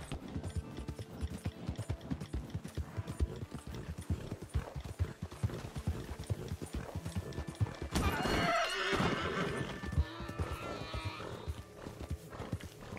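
A horse in the video game Red Dead Redemption 2 clip-clops along in a steady run of hoofbeats, then lets out a loud whinny partway through before the hooves carry on.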